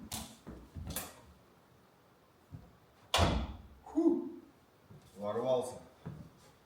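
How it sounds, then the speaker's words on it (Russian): A door of a wooden house is closed indoors, giving sharp knocks and a clunk among quiet room noise, with a few short spoken bits around them. "двери закрыл"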